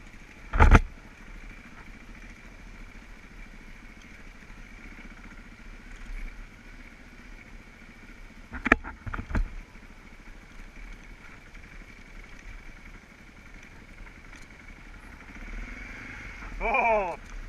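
A motorcycle rolling along in neutral on an alpine ride, a low steady engine hum under wind noise, with a few brief louder revs and thumps and faint talk toward the end.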